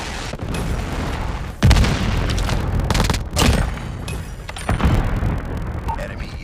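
Predator missile strikes in a multiplayer shooter video game, a run of heavy booming explosions landing one after another, loud and dense, with rumbling aftershocks and gunfire-like bursts between the larger impacts.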